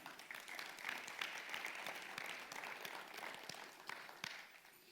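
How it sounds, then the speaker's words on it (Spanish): A church congregation applauds together in a steady wash of many hands clapping, fairly distant and soft, with no talk. "Dale un aplauso al Señor."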